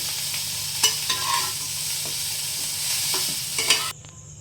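Soybean chunks and chhola dal fry in a pan with a steady sizzle, broken by a few sharp clinks and scrapes of stirring, close and fairly loud before cutting off abruptly.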